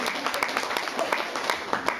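An audience at a Kleiderstube fashion show claps for a model named Lydia. The applause is a steady, moderately loud patter of many hands that holds for the whole stretch, with voices faintly mixed in.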